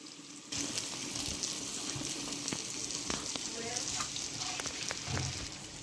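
Papads fry on a hot tawa with a light, crackling sizzle and occasional scraping and clinking of utensils, close by, alongside faint background noise in a home kitchen.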